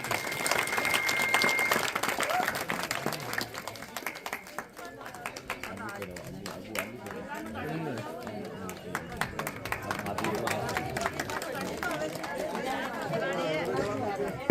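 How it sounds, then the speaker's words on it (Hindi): An audience claps in sustained applause to welcome a speaker at a Guru Ravidas Jayanti celebration. The steady, dense clapping is mixed with crowd chatter and nearby voices throughout. "जोरदार तालियों से स्वागत।"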